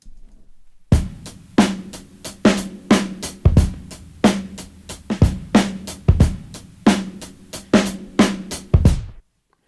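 A drum break from track 5 of the record Breaks Volume 2 plays at 91 BPM, with crisp kick and snare hits in a steady, punchy groove, loud and close, with no voices.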